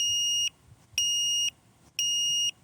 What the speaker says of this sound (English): it'll beep 3 times